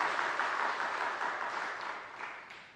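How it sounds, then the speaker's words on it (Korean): A church congregation at a Sunday worship service applauds its choir, producing a steady, fairly soft wash of clapping that slowly fades over its length. "우리 박수로 한번 격려하겠습니다."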